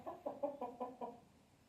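Brooding hens sitting on eggs in a coop give six soft, evenly spaced clucks in a quick rhythmic run, faint and close, then fall silent.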